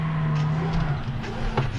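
A boosted delivery van engine in a driving game with a van mod, a steady loud droning hum with a rising whine and slight surging, continuous and close with no talking.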